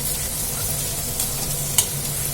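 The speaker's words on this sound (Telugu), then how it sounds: "క్యాప్సికం బఠానీ కొంచెం సేపు అయితే వేయించుకుందాము" Capsicum and green peas frying in hot oil in a pan for street-style pav bhaji, a steady close sizzle with a faint stirring scrape and a single sharp clink.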